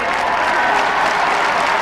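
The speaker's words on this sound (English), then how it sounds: "Michael Tierney, huge round of applause for him." A crowd at the 2003 All Ireland Minor Football Final replay between Laois and Dublin, a Gaelic football match, claps in a loud, dense, steady burst of applause.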